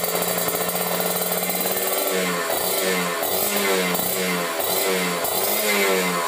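A motorcycle engine revs up to mid RPM, loud and close, with a rough buzzing drone that rises and falls in repeated throttle blips.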